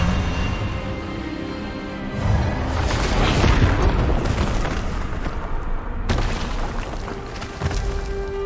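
A booming magical spell blast from the Hogwarts Legacy video game, a loud sustained burst of rumbling energy swelling over a few seconds and then cutting off abruptly, with game score underneath.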